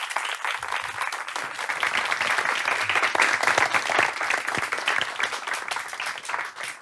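A studio audience on a Turkish talk show gives sustained, even applause to welcome a guest, a dense wash of clapping that holds steady for several seconds.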